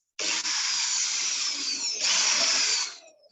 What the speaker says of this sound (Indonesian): kalau menggunakan bor hollow ini kan lingkarannya presisi gitu kan